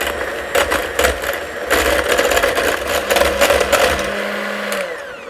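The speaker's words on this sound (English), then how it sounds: "we're going to mix this up really good until the cream is a little bit frothy" Electric mixer whipping cream until frothy for Italian meringue macarons, a steady mechanical whir with rattling bursts that runs for several seconds, then winds down at the end.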